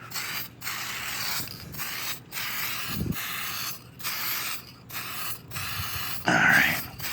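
A spray can or sprayer applies a coating to the back of a new dining table in a series of hissing bursts separated by short gaps, with a louder burst near the end.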